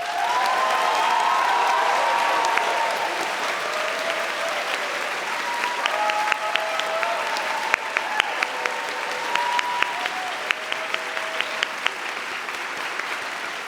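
A large audience at a university science faculty graduation ceremony applauds new doctors, a sustained, full roar of clapping with a few sharper individual claps and faint voices in the hall.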